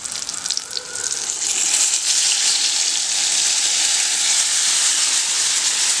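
Coriander masala paste hitting fried brinjal pieces in a hot pan for a Telugu-style curry, a loud continuous sizzle and hiss that swells after the first second and stays steady.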